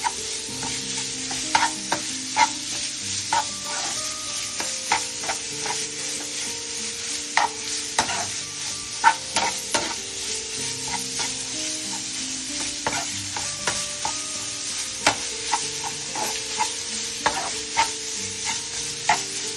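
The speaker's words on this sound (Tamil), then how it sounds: "இப்போ கிரவுண்ட் பீஃப் நல்லா குக் பண்ணுவோம்." Ground beef frying in a pan for nachos while a spatula stirs it, a loud steady sizzle with frequent sharp scrapes and taps throughout, close and free of voices.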